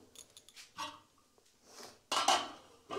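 A lid set onto a cooking pot of vegetables, with scattered light metal clinks and then a louder clattering scrape of metal on metal close by.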